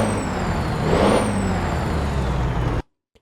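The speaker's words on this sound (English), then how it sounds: "Still the same turbo whine, but nowhere near as much bass in the bottom end." A Freightliner FLB truck engine in Euro Truck Simulator 2 drones steadily with a turbo whine that rises and falls, then cuts off abruptly near the end.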